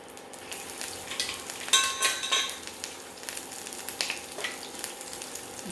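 New Zealand mussels frying in curry, with a steady close sizzle and sharp crackling pops that come in a short burst near the start before settling back to a lighter spatter.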